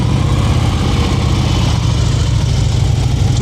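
Motorcycle engine held steady around 2,000 rpm during slow-speed riding practice, a continuous loud low-pitched rumble with no breaks.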